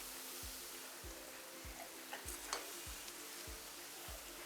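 Urad dal vada, flavoured with ginger and green chilli, frying in hot oil: a faint, steady sizzle and bubbling with soft, evenly spaced ticking pops about every half second.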